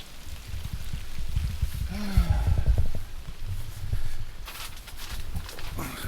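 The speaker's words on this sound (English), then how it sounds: "Rain been coming down pretty good." Rain comes down on a tent during stormy weather at Huntsville State Park, a steady close patter with irregular heavier drips and a few thumps.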